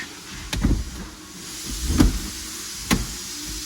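An electric seat motor whirs in three short bursts inside an air-cooled Porsche 911, each a brief mechanical hum ending in a soft clunk, with no talking.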